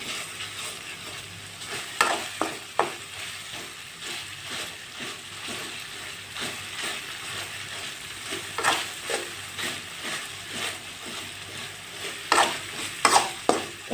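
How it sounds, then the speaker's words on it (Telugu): A ladle mashes tomatoes as they fry in a pan, with soft frying sizzle underneath and scattered sharp scraping clicks and knocks, clustering around the start and end. "చూడండి టమోటాను గరిటెతో ఈ విధంగా అనుకోండి"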